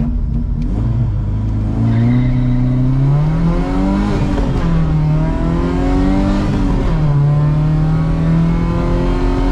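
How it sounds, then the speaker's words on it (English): A 1988 Volvo 740 GLE launches hard in first gear and accelerates up through the gears, its engine note rising steadily, dropping at each shift, then climbing again, loud and close from inside the car. "we'll launch it in first, and then it'll probably honestly be at the end of fourth, maybe even into fifth gear by just this short road here"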